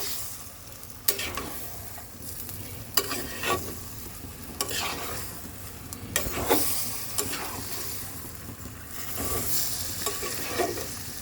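A thick masala with jackfruit and prawns fries in a pan while a spatula stirs it. Loud scraping strokes come every second or two over a steady sizzle, and nobody talks.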